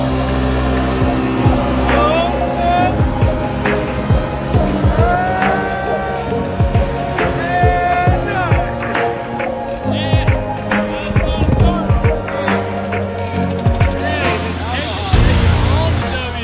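Two 2021 side-by-sides, a Yamaha Wolverine R-Max and a Polaris General, drag racing with a loud, steady engine drone and throbbing hum throughout, plus scattered voices under the engines.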